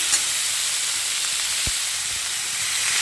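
Water poured into a hot pan of frying tender vegetable stalks for a poppy-seed dish, giving a steady close hiss and sizzle with one brief splash near the middle.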